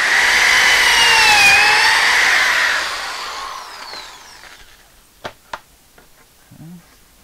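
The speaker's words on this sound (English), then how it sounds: "we're going to just drill out 2 holes" A power drill whines loudly as it bores holes into wood for a bookshelf, then spins down and stops, followed by a few sharp knocks and clicks.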